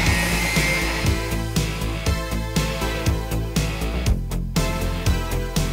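A sewing machine fitted with a size 90/14 universal needle stitches through rubber bicycle inner tube, its motor running in a steady, fast, evenly pulsing rhythm for several seconds with no talk.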